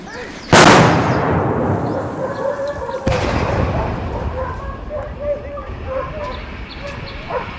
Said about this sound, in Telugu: నక్సల్స్ ముందుగానే పసిగట్టి ఐఈడిని పేల్చేశారు